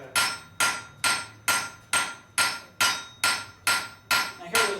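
A blacksmith hammering metal flat, about ten sharp ringing blows in a steady, even rhythm, each strike followed by a short decay, heard alone at moderate distance.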